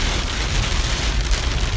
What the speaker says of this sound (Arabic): أمطار وسيول